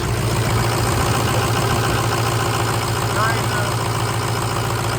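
A Ford 6.0 diesel engine idling steadily with a low, even rumble and a faint knock, loud and close, continuous throughout with a voice talking over it.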